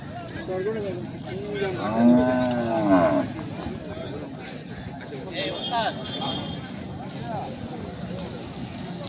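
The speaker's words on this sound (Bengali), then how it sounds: "গাই গরু রয়েছে" Cows at a weekly cattle market in Sarulia give a few long, close moos at midday, with people talking and a murmur of crowd noise around them.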